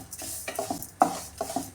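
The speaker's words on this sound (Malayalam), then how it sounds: "സേമിയ ഇതുപോലെ വറുത്തെടുക്കണേ." Vermicelli being stirred and roasted in a pan for semiya payasam, with a spoon scraping and clinking against the metal in irregular strokes over a faint sizzle.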